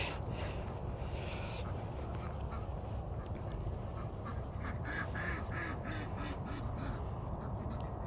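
Ducks on a farm with cows and a livestock guard dog quack repeatedly in a loose, overlapping chorus, heard at moderate distance over steady outdoor wind-like noise.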